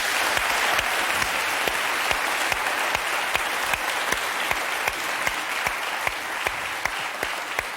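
Studio audience applauding a guitarist on a French music TV show, a steady, continuous wash of clapping with sharper individual claps, sustained and alone.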